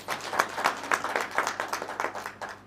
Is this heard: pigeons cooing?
no